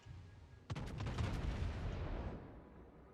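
A heavy naval gunfire salvo in World of Warships opens with a sharp boom followed by rumbling, crackling shots that sustain for about two seconds and then fade out, with no voices over it.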